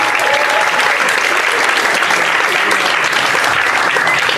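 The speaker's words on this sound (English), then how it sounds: "I want you to give a huge round of applause" Loud, sustained audience applause at a stand-up comedy class show, a thick, continuous roar of clapping throughout that stays at full strength with no voices on top.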